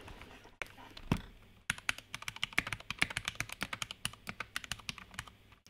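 Someone types on a Vortex VX5 mechanical keyboard fitted with brown switches. After a few scattered key taps, a quick, steady run of crisp, close clacks follows, with no voices.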